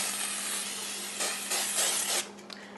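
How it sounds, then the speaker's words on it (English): Cooking spray hisses in a few short bursts onto the sides of a crock pot over a steady background hum, close and fairly loud. "I just want to spray the sides down"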